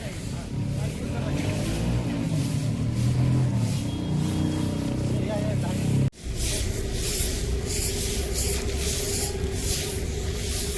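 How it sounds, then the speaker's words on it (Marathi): A vehicle pulls up close by, its engine giving a steady, loud rumble and rushing noise that continues without a break, cuts out abruptly for a moment, then returns. "गाडी आली राव"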